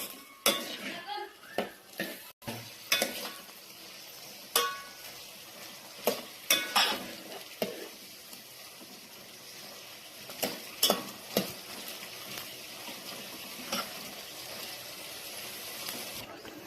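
Pigeon peas and tomato stirred in a pan, a spoon or spatula repeatedly scraping and clanking against metal in irregular bursts over a light sizzle, close up, with no talk.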